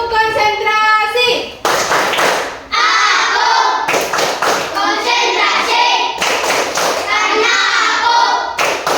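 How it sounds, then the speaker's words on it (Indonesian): A classroom of children does a concentration clapping chant led by a teacher. Loud rhythmic claps and thumps come in bursts, with group voices chanting between and over them. "sekarang kita tepuk konsentrasi terlebih dahulu"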